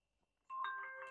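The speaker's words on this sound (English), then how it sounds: "Excuse the doorbell sounds, I can't get rid of that." A doorbell chimes indoors, one bright ringing tone that starts abruptly after a brief quiet moment and sustains with a layered, ringing quality, moderately loud and alone.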